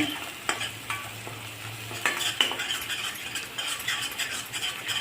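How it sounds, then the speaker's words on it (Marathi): Grated coconut sautéing in oil in a pan for sprouted moong misal, with a gentle steady sizzle under repeated close scraping and clinking strokes of a spoon against the metal. "खोबर बारीक केलेलं घालत आहे. अगदी असं छान परतून घेणे."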